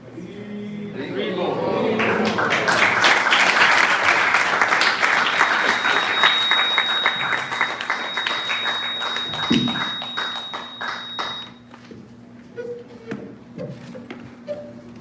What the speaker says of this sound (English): let's give a round of applause for His Holiness Romapada Maharaj for his wonderful speech on Prabhupada